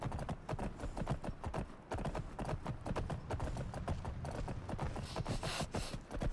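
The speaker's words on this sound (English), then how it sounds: "Let's see if we can't claim this silly horse is ours." Horse hooves in a wilderness survival video game clip-clop in a quick, steady gallop, loud and close, with faint mechanical clicks near the end and no talk.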